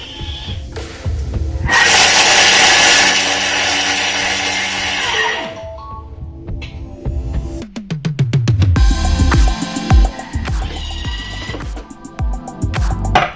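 A food processor whirs loudly at speed 8 for three seconds chopping lemon, stops, then scraping and clattering sounds follow in quick irregular bursts.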